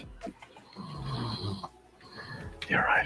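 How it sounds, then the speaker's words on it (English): A man sleeping on his back snores in slow, rough breaths, loud and close, with people talking over part of it. "the snoring's getting better"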